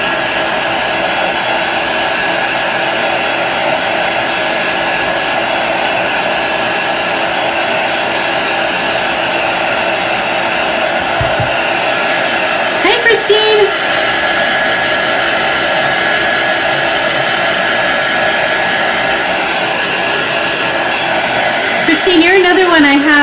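Heat tool blowing steadily to dry chalk paste on a craft sign, a constant loud whooshing roar through the whole span with a few faint clicks and knocks near the end.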